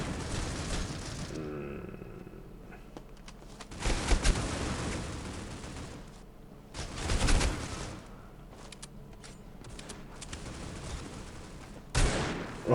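Bursts of gunfire in the Critical Ops mobile shooter game: several loud volleys and rattling fusillades separated by quieter stretches of lighter shots and game noise.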